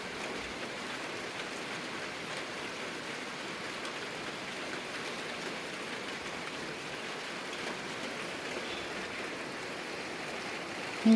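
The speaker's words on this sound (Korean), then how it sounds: "빗소리 좋고" Steady, even rainfall patters continuously on surfaces nearby, a soft constant hiss with no voices.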